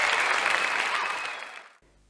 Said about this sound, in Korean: 세계가 환호했다.